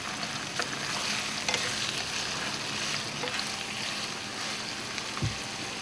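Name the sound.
banana heart vegetables added to the pan and stirred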